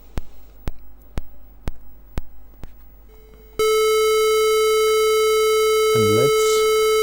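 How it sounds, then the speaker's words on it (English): A 440 Hz square-wave beep on the note A plays from a computer speaker as a loud, steady electronic tone. A run of sharp, regular clicks comes before it, and a brief voice is heard near the end. "let's increase the frequency to 440 Hertz, which represents the note A"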